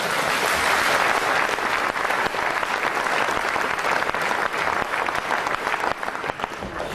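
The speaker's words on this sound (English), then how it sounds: "Give yourselves a round of applause." Loud, sustained applause from a packed UKIP party conference hall in 2016, a thick roar of clapping that holds steady for several seconds and eases slightly at the end.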